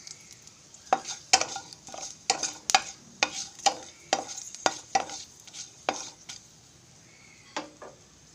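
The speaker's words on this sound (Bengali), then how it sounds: "কড়াইতে আর একটু তেল দিয়ে পাঁচফোড়ন, শুকনো লঙ্কা আর তেজপাতা ফোড়ন দিয়ে সবজিগুলো আমি একটু ভেজে নেব।" Vegetables such as pumpkin and potato fry in a wok with panch phoron, dried chilli and bay leaf, with about a dozen sharp spatula scrapes and clinks in an uneven rhythm over a light sizzle.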